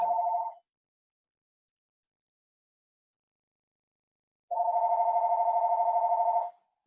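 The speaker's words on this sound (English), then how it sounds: "I'm sorry, my phone is ringing" A phone rings with a steady electronic tone, one short burst at the start and then a longer two-second ring after a silent gap, clear and alone.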